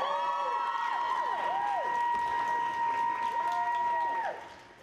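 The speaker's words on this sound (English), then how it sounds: "Another round of applause," Audience applause at a cosplay contest, steady clapping and crowd noise beneath a loud sustained tonal sound with gliding pitches, fading out at the end.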